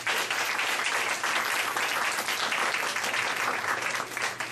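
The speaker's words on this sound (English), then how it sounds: "I want to give him a round of applause" Steady, dense applause from a large crowd, loud and continuous throughout.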